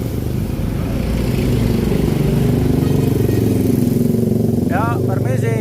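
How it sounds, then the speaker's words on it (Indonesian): Motorbikes pass close by on a narrow, congested uphill road, a steady engine drone with rising revs running under quiet talk throughout. "Di sini motor nih penguasanya nih."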